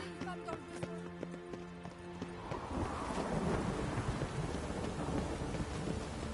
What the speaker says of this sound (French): Bien sûr que le temps est humide. Il pleut.